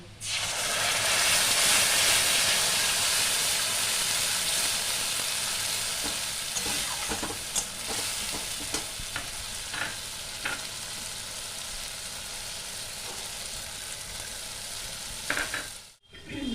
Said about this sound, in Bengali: পোস্তটা দিয়ে আমি নাড়াচাড়া করে নেব।